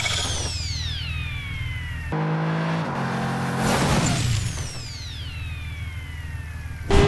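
Pagani Huayra hypercar in the BeamNG video game, engine whining with falling pitch sweeps, an abrupt cut to a harsh noisy crash burst, then the engine tone returns with a loud thump at the end.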